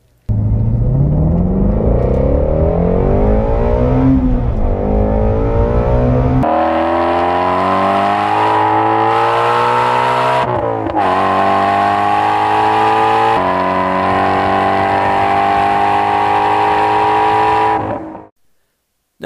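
A 2017 Ford Mustang Shelby GT350R with a 5.2-liter naturally aspirated flat-plane crank V8 and six-speed manual revs hard, pitch climbing through repeated sweeps with sharp shifts, sustained close and without talk before cutting off.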